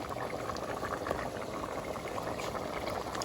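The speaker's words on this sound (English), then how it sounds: "Bring that up to a boil" A pot of potato soup at a rolling boil, dense steady bubbling and popping held close for a few seconds without pause, no voices over it.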